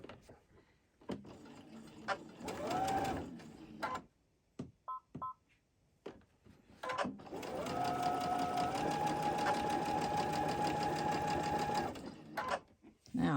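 A sewing machine chain-stitches quilt rows, with short bursts of whirring and then a long steady run of rapid stitching, close up, separated by gaps and small handling noises.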